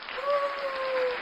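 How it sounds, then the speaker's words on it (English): Dense applause fills the short clip at a steady level, with a couple of thin tonal lines running through it and voices faintly mixed in. "We'll give her a little applause"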